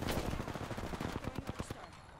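Rapid automatic gunfire in The Division 2 video game, a fast burst of about a dozen sharp shots in a tight rhythm, loud and close, fading off at the end.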